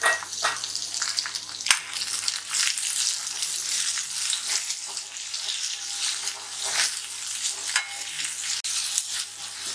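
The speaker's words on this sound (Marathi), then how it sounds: "कांदा छान लाल झालेला आहे, आपण याच्यात 1 छोटा टोमॅटो कापून घेतलाय बारीक," Finely chopped tomato sizzles in a pan with browned onion, a steady close crackle and hiss with irregular pops that continues the whole time with no talking.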